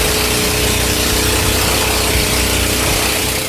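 A loud, constant roar of a boat engine drones on without a break, close and steady, with no voices, during island hopping off Panglao in the Philippines.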